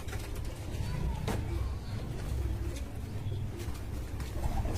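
Pigeons coo softly in a loft, low murmuring calls repeating under a steady background hum, fairly faint and close.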